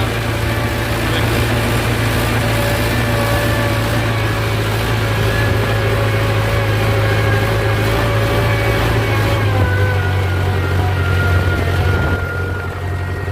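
A 475 tractor pulling a field leveller through a field drones loudly and steadily, a low rumbling hum that holds without pause and shifts pitch slightly near the end as the tractor slips.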